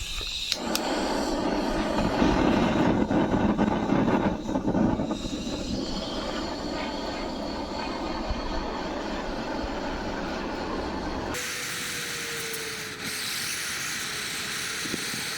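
Gas torch burning on 225-gram Tyros butane cartridges, scorching a wooden board for a cable-spool table, a steady close roar with crackle that changes tone sharply near the end, without talk.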